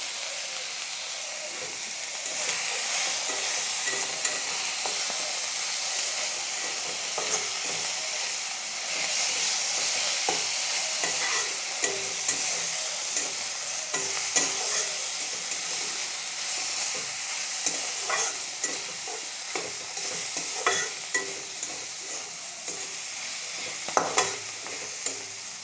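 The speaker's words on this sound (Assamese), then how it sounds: "এইখিনি ধুনীয়াকৈ লৰাই ল'লোঁ খৰিচাখিনি ভালকৈ সিজিবৰ কাৰণে" Sliced bamboo shoots seasoned with turmeric and salt sizzle steadily in a hot pan, with a constant hiss and recurring scrapes and knocks as they are stirred, close and without talk.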